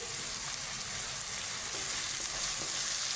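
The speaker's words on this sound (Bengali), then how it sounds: "পেঁয়াজটাকে সুন্দর করে লাল লাল করে ভেজে নেব।" Onions with sugar and salt fry in a pan, making a constant, even sizzle that stays close and fairly loud for the whole short stretch, with no voices.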